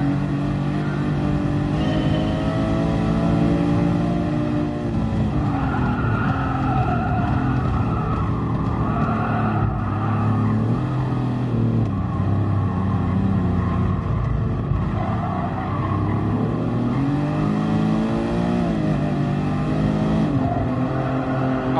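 Ferrari race cars, including a Dino and a LaFerrari, roar through a race in the video game Gran Turismo Sport, with engines revving up and down steadily and loudly throughout, no talking.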